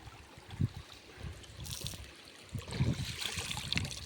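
Water trickles and gurgles faintly nearby, with soft splashes and uneven bursts over a quiet background.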